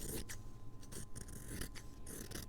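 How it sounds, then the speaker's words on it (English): Scissors snip and scrape while trimming close around a finished machine-embroidered design, several short cuts close by against a constant low background hum. "And then with my scissors, I'm going to trim close."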